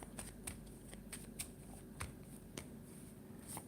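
Faint card shuffling, quick riffling bursts repeating at irregular intervals, quiet and close with no voices.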